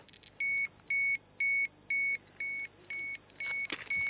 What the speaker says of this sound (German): An einer unscheinbaren Stelle schlägt sein Dosimeter Alarm.